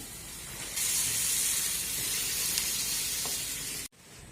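Chopped breadfruit drops into a hot pan of sautéed onion, curry leaves and dried red chillies, and a loud, steady hiss of sizzling and steam rises and holds until it cuts off abruptly.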